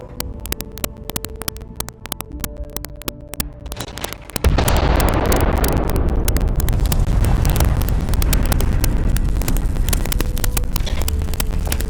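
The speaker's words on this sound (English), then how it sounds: "Detonation occurs in 5." A massive detonation in the space game Starfield erupts midway and holds as a loud, sustained roaring rumble for several seconds after a stretch of quieter clicks and hum.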